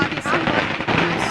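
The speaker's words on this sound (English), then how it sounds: "fireworks going off right now in celebrations." Fireworks crackle and pop densely in celebration outside party offices, a continuous outdoor barrage of sharp bursts with faint voices underneath.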